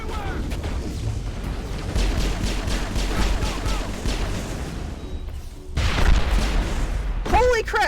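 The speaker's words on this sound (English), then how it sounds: "Holy crap! Did you see that explosion?" Explosions and booming impacts in Mass Effect combat, with rattling gunfire and crashing debris, loud and close, a heavy blast swelling near the end while a voice talks over the action.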